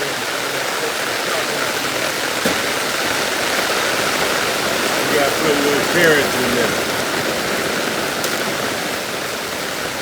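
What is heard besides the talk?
heavy rain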